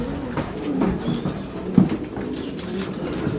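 A racing pigeon coos close by, soft throaty rolling calls repeated in a loose rhythm, one louder coo near the middle, with no talk over it.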